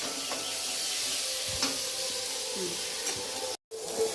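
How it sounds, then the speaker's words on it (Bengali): Vegetable curry being sautéed in a pan at home, a steady soft sizzle and hiss with faint stirring scrapes throughout, briefly dropping out near the end. "দেখো তরকারিটা একটু কষে নেব"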